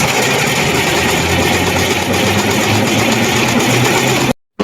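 A prime mover truck engine with a troubled starter idles loud and close, a steady rumbling drone that cuts off abruptly near the end.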